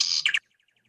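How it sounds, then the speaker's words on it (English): A Baltimore oriole gives a short bright whistled phrase of a few clear notes, close and loud, then falls quiet with only faint distant chirps trailing after. "Hey, it's a Baltimore Oriole."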